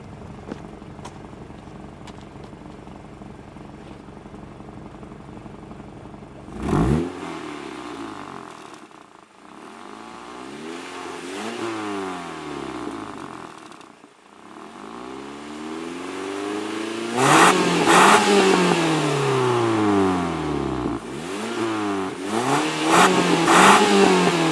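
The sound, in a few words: car engine revving from exhaust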